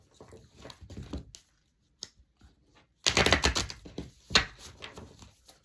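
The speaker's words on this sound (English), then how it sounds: "One more shuffle." Tarot cards being shuffled by hand during a reading, with soft irregular riffles and taps, a louder burst of card shuffling in the second half, close and without talk.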